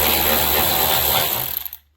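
A hand ratchet turning out the 10mm hood-to-hinge bolts on a scrapped Honda Civic, a loud close rapid clicking run that slows into a few separate clicks and stops.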